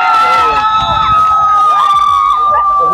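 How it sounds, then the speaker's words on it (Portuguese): A crowd watching a men's footvolley tournament in Itacuruçá, loud and close, cheering with shouts and high whistles over a steady buzz of voices. "Vibração da torcida. Maravilhosa."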